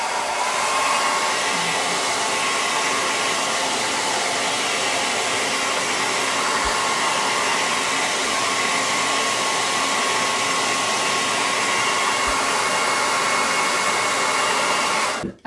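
A hair dryer blows steadily and loudly for about fifteen seconds, drying paint between coats on a painted chalkboard bee sign, with a constant broadband whoosh that cuts off abruptly at the end.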